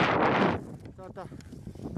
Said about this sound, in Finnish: tuuli on vieläkin varsin kova